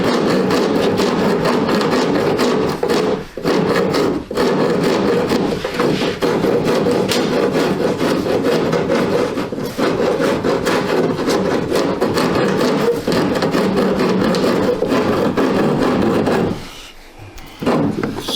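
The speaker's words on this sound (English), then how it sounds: "Right, get my rasp on it." A hand rasp is worked across wood in rapid, continuous scraping strokes, loud and close, with a brief pause near the end before rasping resumes.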